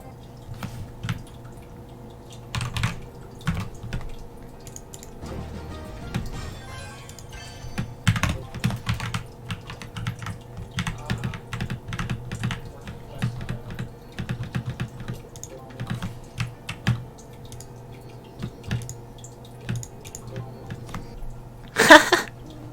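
A computer keyboard spacebar is pressed repeatedly while a video game is played, giving irregular close clicks and taps, some held, over a faint background hum.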